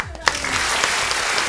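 Applause from a comedy club audience swells after a brief burst of talk, a steady dense patter of clapping that holds at a moderate level to the end.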